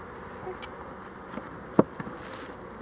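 Honeybees hum in a steady, close drone around an opened hive frame, with a few faint clicks and knocks from handling and a brief soft voice.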